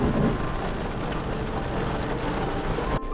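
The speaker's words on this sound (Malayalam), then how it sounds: "ഇതാ നമ്മൾ കേറി വീണ്ടും മഴ നേരത്തെ പോലെ തുടങ്ങി." Steady rain falling outdoors at a waterfall and forest tourist site in Kerala, a continuous dense hiss of drops on surfaces throughout, fairly loud and unbroken.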